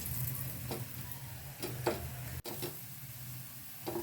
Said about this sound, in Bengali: এইভাবে সব কটা পরোটা সেঁকে নেব